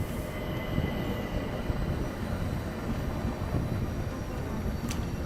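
Steady rumble of an idling train at a station in an Orient Express murder-mystery video game, with a low continuous mechanical drone, a faint metallic whine and a brief high squeal near the end.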